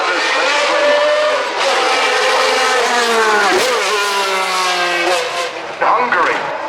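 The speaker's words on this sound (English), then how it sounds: "Stoffel van Dorn in the McLaren" A McLaren Formula 1 car runs the Goodwood Festival of Speed hill climb in 2016, its engine screaming loud and close with a rising, shifting pitch as it accelerates past. Commentary runs over it throughout.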